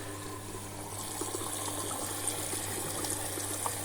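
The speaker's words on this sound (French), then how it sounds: "Nous sommes au dernier rinçage." Water flows steadily during a washing machine's final rinse cycle, a constant close gushing wash with a low mechanical hum underneath and no voices.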